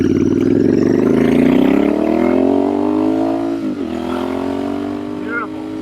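A Royal Enfield Bear 650 motorcycle with a high-pipe shotgun exhaust rumbles past up close, its deep twin-cylinder tone rising then easing off as it moves away, loud and alone.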